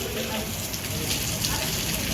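Heavy rain falling, a dense continuous hiss of drops on surfaces, steady and close for the whole moment.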